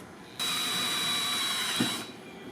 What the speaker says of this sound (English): This side I'm going to drill the holes so we could put this bracket on this side right here.